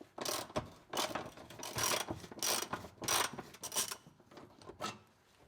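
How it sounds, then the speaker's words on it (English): Ratchet loosening transmission crossmember bolts under a vehicle, with bursts of rapid clicking in an uneven rhythm, close and moderately loud, heard without talk. "And now remove the transmission crossmember bolts."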